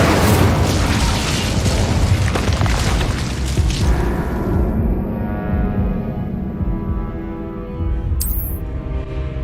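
Incendio fire spell in Hogwarts Legacy, a loud fiery boom and roaring burst that fades into a lingering rumble, ending with a brief bright chime.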